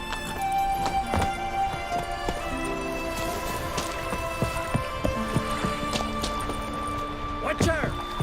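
Hooves of a horse named Roach clip-clopping at a run in the video game The Witcher 3: Wild Hunt, rapid hoofbeats mixed with game sounds, a brief whinny near the end, and voices talking over it.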